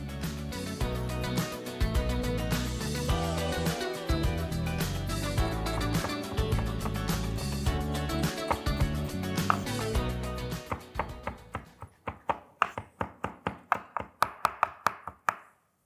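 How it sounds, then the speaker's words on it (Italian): Music plays for about ten seconds, then a knife chops parsley steadily on a board, a quick run of sharp, evenly spaced strikes close by. "nel frattempo ci triteremo del prezzemolo"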